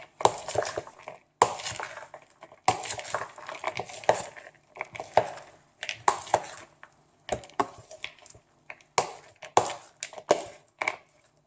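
A spoon stirs and scrapes a chopped cabbage salad in a bowl, giving repeated irregular clinks and crunchy rustles with short pauses between strokes.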